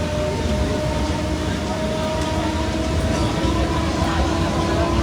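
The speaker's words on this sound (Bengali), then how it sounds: "ট্রেনের টাইম হয়ে এসেছে, এক্ষুনি ট্রেন আসবে।" A train nears a railway platform with a steady, loud rumble and a sustained metallic whine running through it. The noise holds evenly for the whole stretch, with faint voices beneath it.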